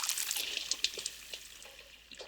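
Storybook sound effect of a shower of water falling on the Fat Controller and soaking his new top hat: a brief, bright splash with scattered drips and trickles, heard alone.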